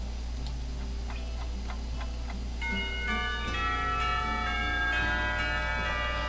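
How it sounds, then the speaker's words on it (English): School bells in the Katawa Shoujo visual novel mark the end of lunch break: a few soft ticks first, then a sustained ringing chime of layered bell tones through the rest. "It isn't long before the bells are signaling the end of the break."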